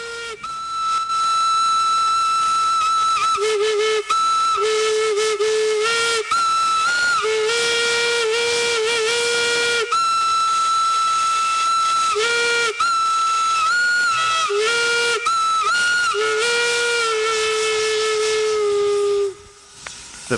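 A railway steam whistle sounds in a run of long blasts and shorter toots, its pitch shifting as the steam changes, with a strong hiss under each one and brief gaps between calls.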